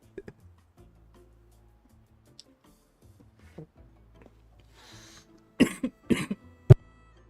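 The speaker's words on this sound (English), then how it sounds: "listening to you cough and wheeze makes me feel a little better" A person coughs several times in quick harsh bursts near the end, close and fairly loud, after a mostly quiet stretch with faint clicks and soft background sounds.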